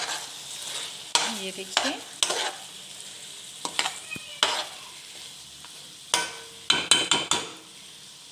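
Onions and green chilies stir-fried in a pan for chicken nasi goreng, with intermittent spatula scrapes and clatter over a low sizzle. Someone speaks briefly.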